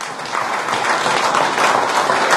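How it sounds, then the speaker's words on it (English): An audience at a talk by Uganda's deputy governor on finance and trade gives a sustained round of applause, a dense wash of many hands clapping, even and fairly loud throughout. "Can we give a round of applause to Professor Nuwagaba?"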